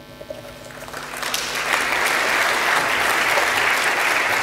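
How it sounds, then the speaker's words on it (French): At an entrepreneurship conference evening in Nice, audience applause swells up from a brief quieter start and settles into loud, dense clapping from a large room, with no voices over it. "il mérite tous les applaudissements."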